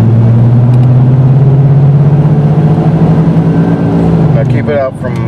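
A 1996 Dodge Dakota 3.9L V6 engine held at high, steady revs, a loud continuous drone that drops away near the end, with faint voices in the background.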